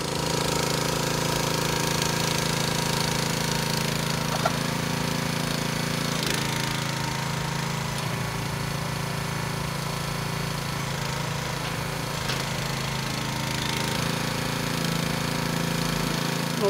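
Small engine of a 500 kg payload minidumper with a 9 hp motor and hydraulic tipper runs steadily and loudly throughout, a continuous close mechanical drone with a chattering, knocking edge and no talk.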